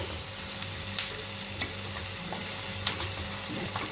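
Onions fry in oil in a kadai as marinated chicken goes in, a dense steady sizzle with scraping spatula strokes and occasional spits, heard close and without speech.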